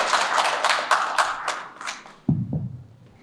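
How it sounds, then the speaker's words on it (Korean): An audience at an art exhibition opening claps in applause, a dense burst of hand claps that quickly thins to a few scattered final claps. "박수를 쳐주세요."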